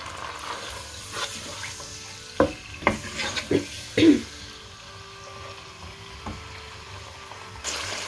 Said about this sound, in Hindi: चिकन हमारा फ्राई हो रहा है मीडियम हाई हीट पे